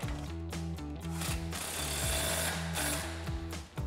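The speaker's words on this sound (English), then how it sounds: "we can take our impact with our 19 millimeter swivel and tighten that down" An impact wrench with a 19 mm swivel socket tightens a suspension nut on a Toyota 4Runner during a Bilstein B8 6112 leveling kit install, rattling in rapid, steady hammering bursts, close and loud, with short pauses between runs.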